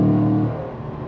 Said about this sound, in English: Stick it into sport, opens up those bimodal exhausts and gives you even more noise.